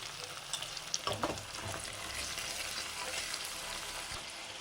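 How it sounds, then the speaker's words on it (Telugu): Boiled chicken is mixed into a ginger masala in a pan, with a continuous frying sizzle and a few scraping stirs of the spatula near the start, and nobody speaking. "చికెన్ వేసుకున్న తర్వాత ఆ మసాలా అంతా బాగా పట్టే విధంగా చికెన్ని కలబెట్టుకోవాలి"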